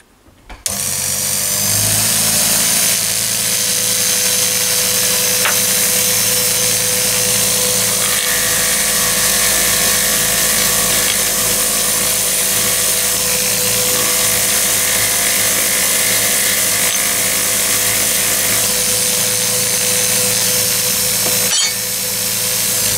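Flap wheel of emery tape spinning on a homemade bench vise buffing and polishing machine, a loud continuous whirring drone that starts up abruptly and runs steadily for about twenty seconds before cutting off.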